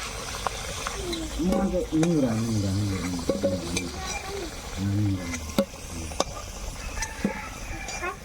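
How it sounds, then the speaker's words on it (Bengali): Potato pieces frying in hot oil give a close, steady sizzle broken by sharp clinks of a spatula stirring the pan. A voice speaks over the cooking for a few seconds. "আলুগুলো সুন্দর ভাজা হয়ে গেছে লাল লাল এবার নামিয়ে নেব"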